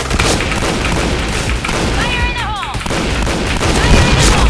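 Loud, dense booms and blasts from a video game, continuous and crowded with bursts and a brief whistling tone, with a voice occasionally talking over it.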